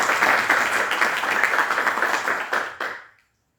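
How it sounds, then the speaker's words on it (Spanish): A room full of people claps for a law lecturer being welcomed, dense and even at first, then thinning into a few scattered claps before cutting to silence. "Un aplauso también, por favor, para él"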